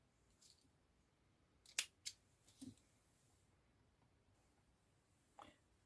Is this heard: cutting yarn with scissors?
yes